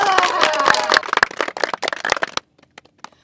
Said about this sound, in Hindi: इनके लिए एक बार जोरदार तालियां हो जाए।